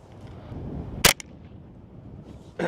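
A single sharp crack from a .22 rifle fired into a tree at roughly 10 to 15 yards stands out against a quiet outdoor background, with a faint second snap right after.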